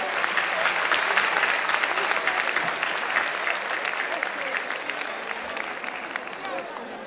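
A concert audience at a music night gives the orchestra a big, sustained round of applause, thick and even at first and tapering gently toward the end.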